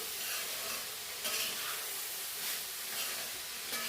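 Bitter gourd mixture sautés in a pan for a Kerala-style theeyal, giving a continuous loud sizzle with rhythmic scraping stirs every second or so.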